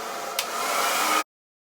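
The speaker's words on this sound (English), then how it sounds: "blow dry time." A hair dryer blows steadily while drying hair after a silk press, a loud even whoosh close by that cuts off abruptly after just over a second.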